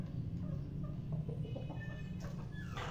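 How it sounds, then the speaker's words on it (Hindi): Chickens being kept and raised make faint, scattered clucks and short calls over a low, steady background rumble, with no talking. "ये देखो मुर्गा पाल रहा है अब, ठीक है।"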